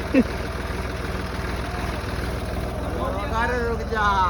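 A tractor engine idles with a low steady throb while hauling a new Brezza car at a wedding in Uttar Pradesh, a brief knock near the start, and the engine note rising and straining toward the end.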